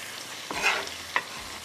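Onions and tomatoes frying over a high flame for chicken tikka pasta, heard as a soft steady sizzle with a few brief stirring scrapes and clinks, fairly quiet and with no talking.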